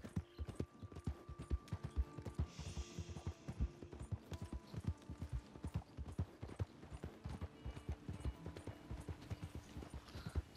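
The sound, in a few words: horse hooves in video game Red Dead Redemption 2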